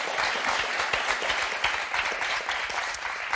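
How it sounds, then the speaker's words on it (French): A television game-show studio audience applauds the contestants with steady, dense clapping that stays loud throughout. "Alors, en tout cas, on va vous applaudir."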